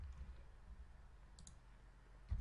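A single faint click of a computer mouse on an orange on-screen button, brief and quiet against a low background hum, with no talking.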